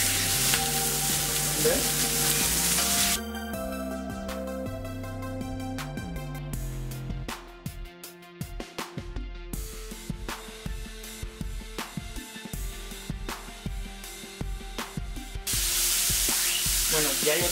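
Lamb ribs sear in a hot pan with a loud, bright sizzle at the start and end, while quieter stretches in between carry background music and a brief spoken word.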